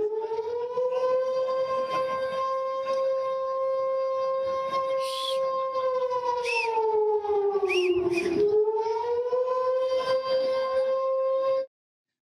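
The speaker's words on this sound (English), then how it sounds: "In the occupied West Bank, Nakba Day was signalled with sirens." A civil defense siren sounds to mark Nakba Day in the occupied West Bank, one long steady wail with a slight dip in pitch, loud and continuous for about twelve seconds before it cuts off abruptly.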